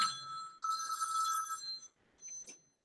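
A telephone rings indoors during a live stream, with two long electronic trills followed by the start of a third, moderately loud and heard alone with no talking over it.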